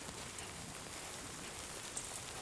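Steady rain falling in the video game Death Stranding 2, a soft, even hiss of drops on surfaces with a few faint taps, quiet and unbroken.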